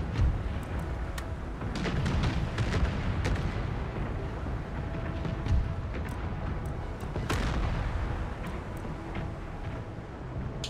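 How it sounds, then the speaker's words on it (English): Cannon fire in the Empire Total War strategy game, a series of deep booming blasts and scattered sharp reports over a rumbling battle background, fairly continuous across the stretch. "Load those cannons."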